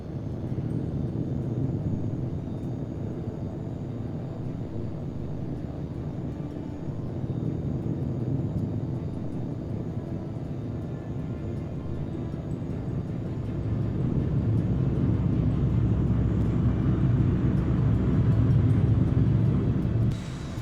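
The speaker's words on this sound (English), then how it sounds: "You get more of an afterburner effect" Jet fighter engine in the video game H.A.W.X 2 drones with a steady low rumble and hiss, swelling louder with afterburner near the end; no talk.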